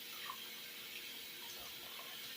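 Lukewarm tap water runs steadily into a sink while raw chicken is rinsed, a constant soft hiss with no talking.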